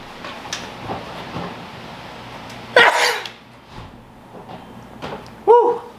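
A person sneezes once, sharp and close, in a quiet indoor space while suffering from allergies, and a short voiced exclamation follows a few seconds later.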